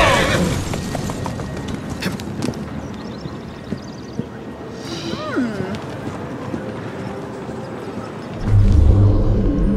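Horse hooves clip-clop on a street in Assassin's Creed Syndicate gameplay, a quick irregular clatter under game noise and effects, with a low rumble near the end.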